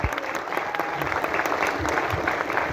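An audience at the premiere of a new Kyrgyz film claps in steady, dense applause filling the room, with some talking underneath.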